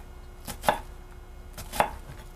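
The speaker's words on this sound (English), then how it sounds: "And then I go down through it to chop my onion." A knife chops down through an onion on a cutting board, two crisp close thuds about a second apart over a quiet room, no talking.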